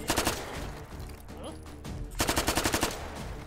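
A submachine gun fires in the H3VR virtual reality shooter with a malfunction mod: a short rapid burst, a pause of quieter handling, then a second longer burst of sharp, evenly spaced shots.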